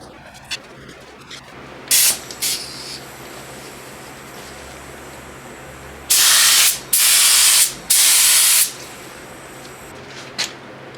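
Spray gun laying down a third coat of automotive paint on a car, heard as loud hissing bursts: a short one early, then three long sustained passes in quick succession near the end, with quieter handling noises between.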